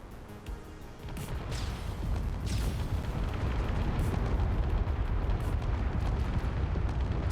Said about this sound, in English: Flak is firing on it now.